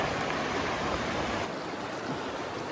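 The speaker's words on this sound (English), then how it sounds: "Another stinking river crossing." Stream water rushing steadily across a river crossing, a broad, constant hiss of flowing water close by with no voices.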